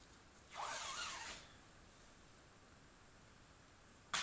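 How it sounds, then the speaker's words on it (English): Electrical tape pulled off the roll to cover exposed copper tabs on a Smart Fortwo lithium battery pack, a single rasping tear lasting about a second, close and clear, followed by quiet and a brief click at the end. "I'm going to cover them up with a little bit of electrical tape."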